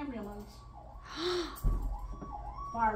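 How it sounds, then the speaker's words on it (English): A distant ambulance siren wails faintly in the background while a nearby baby makes brief sounds over it. "There's an ambulance."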